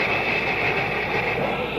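A 1950s steam locomotive of the articulated Challenger type runs on rails, a steady, loud rolling rumble with a sustained hiss and no distinct breaks.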